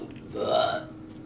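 A single loud, close burp rises and fades over about a second, with faint background noise around it.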